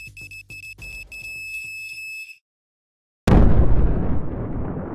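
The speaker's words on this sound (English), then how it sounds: "The collar bomb started making fast beeps around 3:15 p.m.," A collar bomb gives a run of rapid electronic beeps, stops, then after a short silence blows up in a loud, close explosion whose roar slowly decays.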